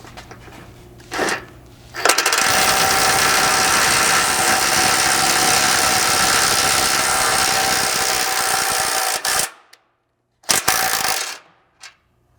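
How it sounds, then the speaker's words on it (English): Impact driver running a 3/4-inch-socket thread cutting bolt into a Bronco frame for a rock slider, a loud, continuous hammering whir lasting about seven seconds, followed by a couple of short bursts. "they can be ran in using an impact."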